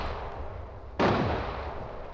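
A grenade goes off in the shooter game Arena Breakout Infinite, one sudden close blast that rings out and slowly fades over steady background game noise.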